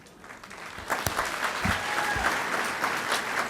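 Audience applause at a cancer charity gala, a dense, sustained clapping from a large crowd that swells after the first second and holds steady, loud and close, with a few sharper claps standing out.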